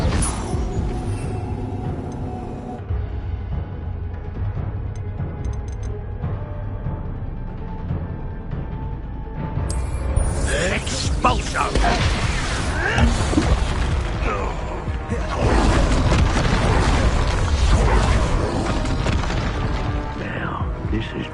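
The Incendio fire spell goes off in a Harry Potter video game, with crackling, whooshing bursts over a continuous game soundscape. Impacts thicken toward the end.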